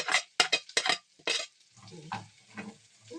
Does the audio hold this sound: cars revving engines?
no